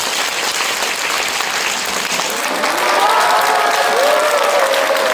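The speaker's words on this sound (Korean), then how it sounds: "시간을 내어주신 이금희 강사님을 큰 박수로 모시겠습니다" A lecture hall audience gives a loud, dense, steady round of applause to welcome lecturer and announcer Lee Geum-hee, continuous clapping filling the whole stretch.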